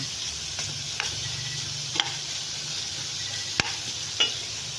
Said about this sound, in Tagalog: bawang and sibuyas. I-fry muna natin